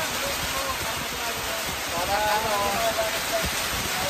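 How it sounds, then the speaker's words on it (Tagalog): Heavy rain driven by strong wind pours steadily during a storm outdoors near cattle, a dense, close hiss filling the whole span while someone talks over it. "Ang lakas ng ulan."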